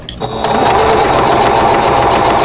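A sewing machine hums and clatters steadily as it stitches through six layers of stacked fabric, loud and close, with no pauses.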